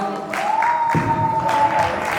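Applause from guests at a wedding welcome and haldi celebration, a steady burst of clapping over a sustained tone, with crowd noise building midway.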